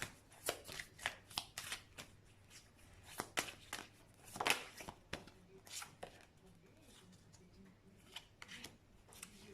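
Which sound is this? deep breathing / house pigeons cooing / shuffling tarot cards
shuffling tarot cards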